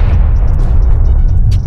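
Continuous deep rumbling booms of overlapping grenade explosions in the video game Rust, loud and close, with faint higher clicks above.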